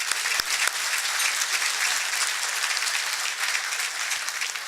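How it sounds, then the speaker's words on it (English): A room full of people at a City Club gathering breaks into steady applause, dense clapping that holds evenly throughout with no voices over it. "let's clap for them, please"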